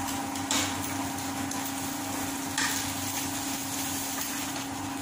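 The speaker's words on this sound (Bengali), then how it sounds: "এবার ডিমটা ভেজে নিচ্ছি" An egg frying in a pan gives a steady, close sizzle that runs throughout, with a couple of brief scraping clatters and no talking.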